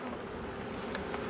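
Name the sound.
buzzing of a bee swarm in a new Langstroth hive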